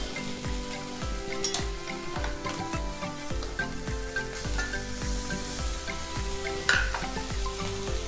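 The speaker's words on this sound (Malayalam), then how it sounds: "നമുക്കിതിലേക്ക് ചുവന്നുള്ളി ചേർത്ത് കൊടുക്കാം." Shallots fry in a pan for a dried fish dish with a steady, close sizzle, broken by regular scrapes and knocks of a spoon stirring against the pan.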